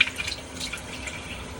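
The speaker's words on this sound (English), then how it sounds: "Let's wash some of these." Potatoes being rinsed under a running kitchen tap, a short burst of splashing water with small drips, close by and with no talk.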